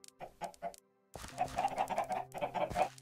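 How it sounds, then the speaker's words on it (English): Chickens clucking in Minecraft's ATM8 modpack, a few short separate clucks and then a denser run of overlapping clucking calls, close and moderately loud with no talking. "Come on, chickens."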